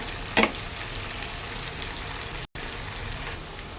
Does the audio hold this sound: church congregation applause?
no